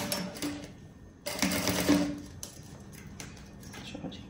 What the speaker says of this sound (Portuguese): Costura aqui e vou costurar também este lado.